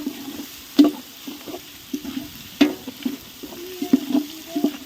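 Crushed ginger and garlic frying in a pan over a home stove for chicken broth, giving soft intermittent sizzles and stirring scrapes near the mic, with brief clatters of utensils and no talking.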